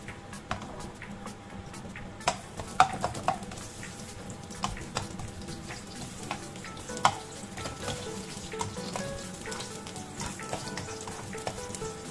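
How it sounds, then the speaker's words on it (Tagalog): Ginger sautés in hot cooking oil for chicken kinamatisang, a soft steady sizzle with occasional sharp clicks and utensil taps, close and continuous with no talking. "magigisa tayo. Lagyan na natin ng mantika. And then, unahin natin ang ating ginger"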